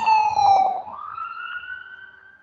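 A fire truck or ambulance siren wails loudly at first, then the tone rises and settles into a steadier, slightly fainter sustained wail.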